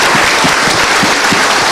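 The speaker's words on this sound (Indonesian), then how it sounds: "kita berikan tepuk tangan" A live audience breaks into sustained, dense applause, loud and close, steady clapping filling the whole moment without pause.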